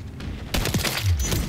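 Shotgun blasts in a Modern Warfare shooter game, a burst of booming reports in quick succession against constant background game noise.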